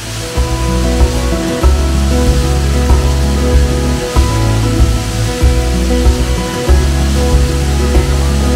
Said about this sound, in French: Nous voilà arrivés à la cascade Laurel Falls.